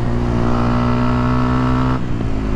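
A Yamaha WR 125 X motorcycle with a full Leo Vince exhaust system holds a loud, steady buzzing rev close by, then drops off abruptly near the end.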